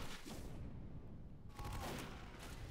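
Rapid bursts of gunfire in Team Fortress 2 crackle in loud clusters, pause briefly, then resume in another dense volley, all fairly faint overall.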